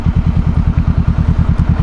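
A Honda CBR500R motorcycle engine thrums close by in a loud, rapid, even train of low pulses, a steady throbbing exhaust note with no talking over it.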